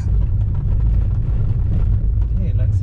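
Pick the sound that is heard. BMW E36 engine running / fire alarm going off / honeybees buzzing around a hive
BMW E36 engine running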